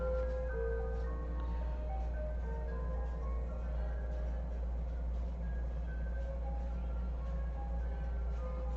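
A distant ice cream truck tinkles its tune through an evening neighborhood, the thin melody notes continuing faintly over a steady low rumble with no voices.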